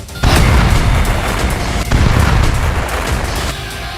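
Deep, heavy booms from Israeli strikes on Hezbollah targets in Lebanon, two big low blasts in quick succession with rumbling aftermath, loud and distant.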